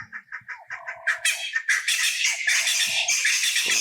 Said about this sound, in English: Ooh, that's a loud bird.